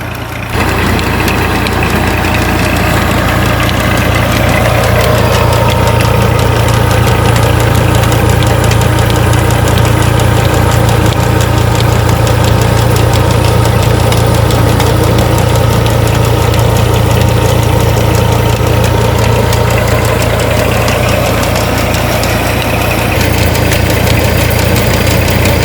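A tractor engine drives a tubewell water pump in a village near Gujranwala, running steadily and loudly at close range with a constant low throbbing drone and knocking vibration, no voices.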